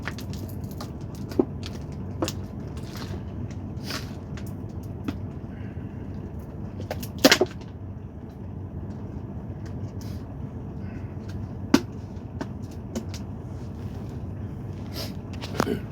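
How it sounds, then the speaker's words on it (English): Truck cab interior while driving, a constant low rumbling drone with scattered clicks and sharp rattles, one louder knock near the middle, and no clear talk over it. "You brothers know I drive trucks, so it's pardon me for the noise."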